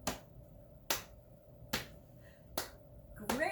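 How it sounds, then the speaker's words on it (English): Five sharp, evenly spaced claps and taps ring out at a steady beat during a children's storytime sing-along, close and alone. "can you clap and do a knee tap?"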